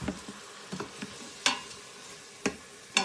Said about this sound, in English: I'm going to use it to hold it a little bit while I'm stirring it. We're just going to brown this up a little bit